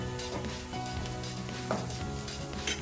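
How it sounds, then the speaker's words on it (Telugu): Onions and curry leaves fry in hot oil in a pan for a prawn curry, giving a steady close sizzle with a few light stirring scrapes and clinks. No voices. "ఆనియన్స్ కొంచెం ఫ్రై అయ్యాక కరివేపాకు వేసుకోవాలి"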